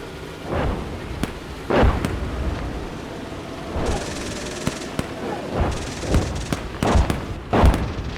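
Artillery shells burst in Gunner HEAT PC, a series of deep, rolling booms at irregular intervals, some distant and some sharper and closer, over a low background rumble.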